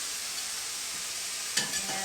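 Beef and broccoli stir fry in a hot pan: a bright, continuous sizzle with a brief scraping stir of the spatula near the end, close and fairly loud, no speech.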